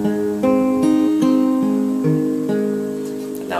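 Fingerpicked guitar arpeggio from a song, starting on E and climbing through the strings: clear, evenly spaced plucked notes ringing into each other, steady and close, with no talking.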